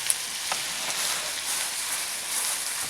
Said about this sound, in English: I see my butter and my oil is starting to sizzle a little.